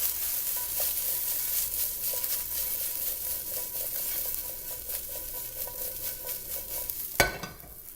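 Food sizzles steadily in a hot frying pan while being stirred and tossed, with scraping and clattering in an irregular rhythm and a sharp clank near the end.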